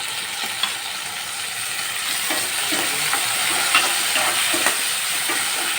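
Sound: tomatoes and onions cooking in pan

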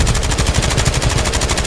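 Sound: gunfire in the video game Warzone

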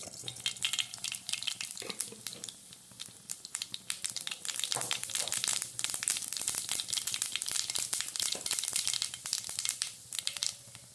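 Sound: mustard seeds spluttering in hot oil

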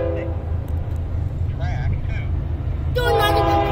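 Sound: CSX freight train with boxcars passing

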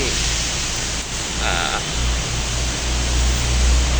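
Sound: heavy rain

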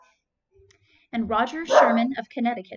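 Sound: dog barking

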